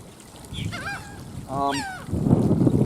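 A seagull gives a couple of harsh, honking calls nearby, followed by rising low rumbling noise, with no talking.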